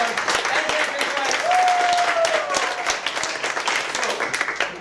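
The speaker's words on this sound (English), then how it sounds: "let's give a big round of applause for the sketch team" Audience applause and clapping for a sketch team at a live improv and music show, a steady dense patter running throughout with voices and a tonal whistle-like note mixed in.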